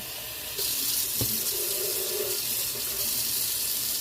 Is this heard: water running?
yes